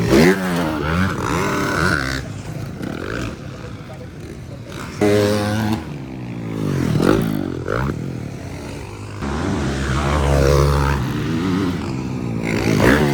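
A pro rider's motorcycle revs and accelerates during a race, loud engine sweeps rising and falling repeatedly, with a commentator talking excitedly over it.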